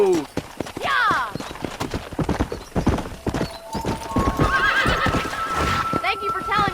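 In Red Dead Redemption, a horse gallops with rapid, close hoof clip-clops and gives whinnying neighs, while a voice talks over the hoofbeats.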